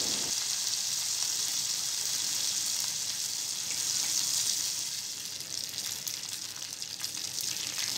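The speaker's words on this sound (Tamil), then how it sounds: "எண்ணெய் காஞ்சதும் கருவேப்பிலை சேர்த்துக்கலாம்." Curry leaves crackle and sizzle steadily in hot sesame oil while cooking an egg dish, a dense, close frying hiss holding for the whole stretch, with no one speaking.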